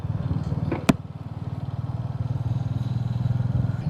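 Royal Enfield Meteor motorcycle riding on a road, a close, steady low thumping engine pulse with one sharp clack early on, running alone without talk.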